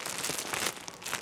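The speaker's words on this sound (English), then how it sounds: "Plastic bag." A plastic bag crinkled and rustled by hand in a classroom, a busy stream of close, crackly rustles with small bursts, steady throughout and not talked over.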